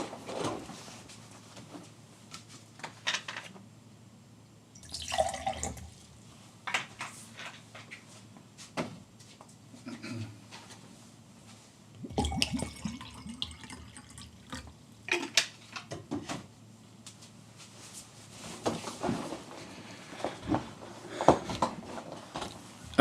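A tap runs and drips in short bursts as water is drawn for a drink at home, with clinks, cupboard knocks and handling sounds spaced across the stretch, moderately close.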